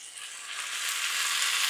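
Chicken stock sizzles loudly in a hot pan, a steady broadband hiss and crackle that swells slightly and runs on continuously without talk.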